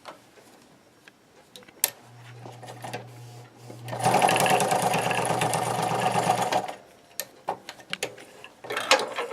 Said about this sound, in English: I'm going to just stitch it down here, and we'll cut off the extra elastic